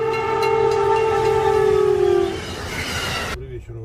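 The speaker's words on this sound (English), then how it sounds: "Traveling at 80 miles per hour, an Amtrak train doesn't let snow slow it down." An Amtrak passenger train at 80 miles per hour rushes through snow drifts with a sustained blaring horn and steady rolling roar, loud and close, ending abruptly.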